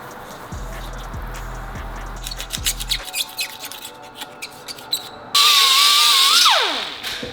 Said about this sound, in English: So use a whiz wheel to get it cleaned up.